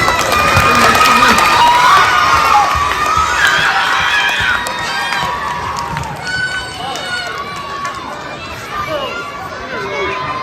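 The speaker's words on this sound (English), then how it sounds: "Round of applause for science." A crowd cheers and shouts loudly at a science show, with excited children's voices and scattered clapping; the noise is near and dense, then eases slightly.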